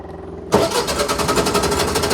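An Army generator engine catches abruptly after a quiet moment and settles into a loud, steady, pulsing idle close by, with no talking.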